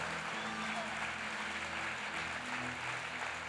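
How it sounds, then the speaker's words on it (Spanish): A church conference audience applauds as a steady, dense wash of clapping that carries on evenly throughout, moderately distant with a roomy crowd feel. "Hoy estás aplaudiendo."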